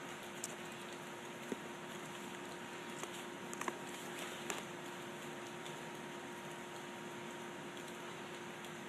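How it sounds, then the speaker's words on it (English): Light rain falls steadily with a soft, even hiss and patter, and a few faint drips and taps stand out now and then. The sound stays quiet throughout. "Slow and rainy here."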